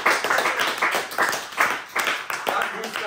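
A few people clap in uneven bursts close to the microphone, the claps coming in clustered rhythmic waves that rise and fall over about three seconds.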